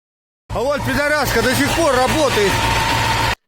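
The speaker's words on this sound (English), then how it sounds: "what's interesting is that the engine is still running" A heavy armored vehicle engine idles with a steady low rumble while a voice talks over it for the first couple of seconds.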